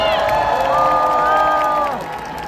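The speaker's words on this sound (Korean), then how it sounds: "나경원 공동선대위원장님 다시 한번 큰 박수 부탁드리겠습니다" A crowd at a Seoul City Hall plaza campaign rally claps and cheers loudly and steadily, with a few voices rising above the din before it fades slightly at the end.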